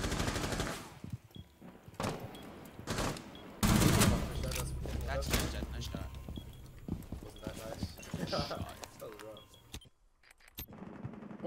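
Light machine gun fire in a ranked online shooter comes as rapid bursts of shots mixed with other game sounds and effects, while players talk over it.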